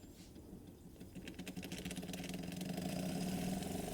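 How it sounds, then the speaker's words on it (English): A Wilesco D455 toy steam engine on its first run before a light restoration, chuffing and whirring quietly in a fast, even mechanical rhythm that grows slightly louder and steadier as it runs. "I don't like to run steam engines fast."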